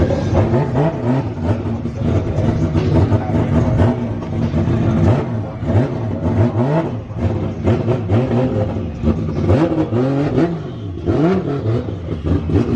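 Loud engine of a tuned 900 hp Nissan S15 revving hard again and again on a dyno, rising and falling in pitch with a raw, close mechanical roar throughout.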